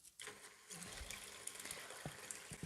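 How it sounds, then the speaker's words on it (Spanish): A small water pump in a homemade mosquito trap switches on with a sudden start, then runs with a trickling, gurgling flow of water through a filter, faint and close with a few soft knocks. "La bomba va a succionar y todo va a ir pasando a través de ese filtro."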